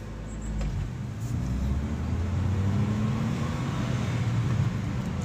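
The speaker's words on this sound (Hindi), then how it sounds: "एकदम स्मूथ चल रही है CNG पे, कोई दिक्कत नहीं है।" A Mahindra XUV 300 running on CNG, its engine giving a steady, smooth low rumble with road and traffic-like noise throughout, no talking.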